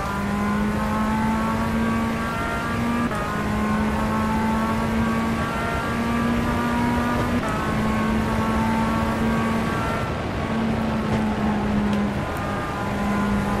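Tatuus F3/F4 open-wheel race car engine in rFactor 2, a steady high-revving drone with gear shifts and slight pitch dips, loud and continuous throughout with no talk.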